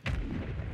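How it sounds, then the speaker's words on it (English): A hostile mortar strike explodes in a military shooter video game, a loud, close booming blast with a sharp onset that rumbles on through the rest of the moment. "Hostile mortar strike in the area."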